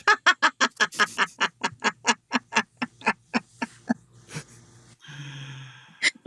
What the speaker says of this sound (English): You call it a yellow-billed loon.